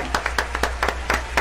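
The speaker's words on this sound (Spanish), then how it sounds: "Un fuerte aplauso para él." Applause for Dr. Abelardo Encina Silva at a televised event, heard as a modest, steady patter of claps, fairly close, with a low hum underneath and no talk.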